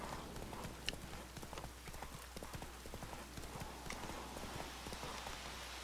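Horse hooves clatter in a fast, rhythmic clip-clop gallop in the video game The Witcher 3, with a low steady hum underneath and no speech.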